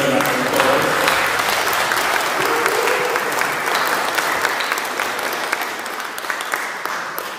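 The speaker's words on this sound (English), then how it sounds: "Let's give another round of applause." Church congregation applauding during a Sunday service, a loud sustained wash of clapping from many hands that stays strong throughout and fades slightly toward the end.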